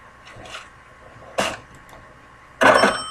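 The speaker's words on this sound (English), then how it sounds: "And I think they have the drawer opening too." Old-fashioned cash register sound effect with its drawer opening: a few mechanical clicks, then two sharp metallic clunks and rattles with a faint ringing tail, close and clear.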